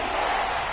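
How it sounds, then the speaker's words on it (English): A football stadium crowd roars steadily before a big third down, a dense, sustained wash of distant cheering. "the crowd getting into it as we come up on a big 3rd down"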